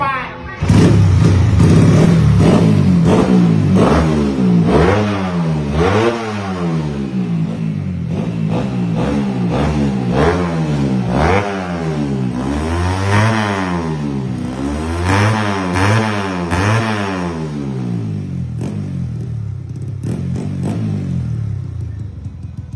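A Honda Wave 125 motorcycle engine with a new prototype cam profile revs up and down repeatedly, close and loud, with a voice talking over it now and then.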